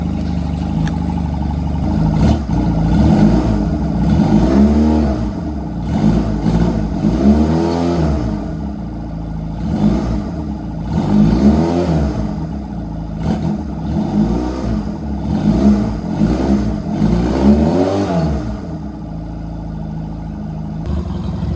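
Honda Rebel 250 motorcycle engine running after decades off with the choke fully on, revved repeatedly in a steady rhythm of rising and falling surges over a rough idle, close and loud throughout.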